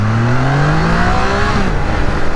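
A Triumph Trident 660cc motorcycle on its stock exhaust accelerates on the road, heard up close and loud. The engine tone climbs steadily under constant wind rush.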